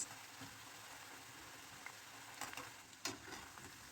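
Baursak dough frying in hot oil while being stirred: a soft, steady sizzle of frying with occasional scraping knocks from the stirring utensil, close but quiet, with no talking.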